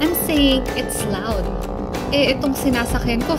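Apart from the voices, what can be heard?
No distinct noise like a dog, phone or traffic.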